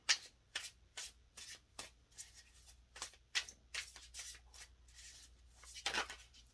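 Tarot cards being shuffled and handled up close, a soft series of riffling, rustling bursts in an uneven rhythm, quiet and alone with no talking.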